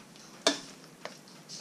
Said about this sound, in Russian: Перемешиваю немножко.